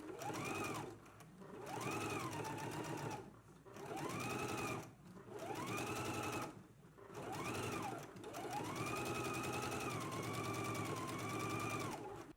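Sewing machine stitching lace along a pinned garment seam, running in several steady bursts separated by brief pauses, its whirring motor clear and close.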